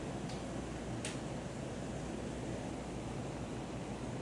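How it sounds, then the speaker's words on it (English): A dense, steady roar of heavy rain fills the air without a break, with a couple of faint ticks near the start. "It's pouring down rain outside, so you guys hear the noise."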